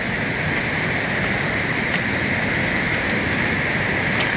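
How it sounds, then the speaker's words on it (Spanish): A river rushing downstream past a mountain in the morning, a steady, loud broadband wash of flowing water that holds constant throughout with no voices over it. "El río bajando aquí."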